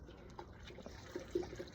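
Soapy water sloshes and swirls faintly as it is stirred by hand in a pot for cleaning a recorder, with soft small splashes and gurgles scattered through.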